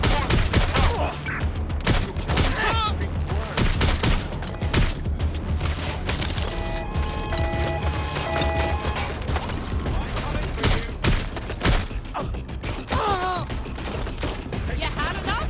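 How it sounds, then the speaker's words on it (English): Heavy gunfire in the video game Watch Dogs: Legion: dense, rapid bursts of shots crackling continuously at close range, with brief voice lines and game radio chatter mixed in under the firing. "Suspect has a firearm. Being shot at here."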